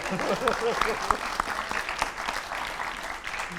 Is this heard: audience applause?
yes